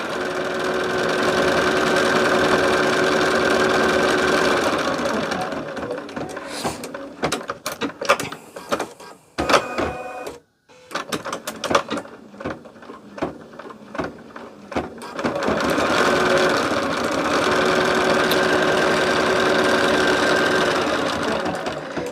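An embroidery machine stitches a heart placement line onto a lumbar pillow, with a loud, fast, steady mechanical whir up close, a stretch of uneven clicks and pauses in the middle, then steady stitching again, with no talk.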